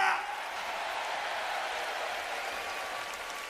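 A concert crowd applauds a live performance, a steady, even wash of clapping after a brief louder burst at the start.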